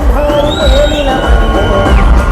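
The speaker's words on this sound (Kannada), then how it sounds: "ಜೋರದ ಚಪ್ಪಾಳೆ" A crowd at the Kundapra Kannada festival in Kundapura cheers and whoops loudly, with voices shouting over one another in a sustained, close burst of excitement.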